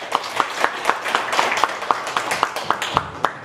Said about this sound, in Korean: 추대하는 걸로 해서 우리 박수로